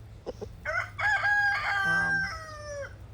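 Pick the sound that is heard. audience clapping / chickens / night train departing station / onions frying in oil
chickens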